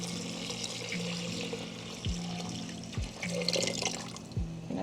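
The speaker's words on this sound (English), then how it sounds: "you're gonna go ahead and add 4 cups of water" Water runs into a simmering pot on the stove in a steady wash, with faint bubbling, clinks and a low hum beneath. No one speaks.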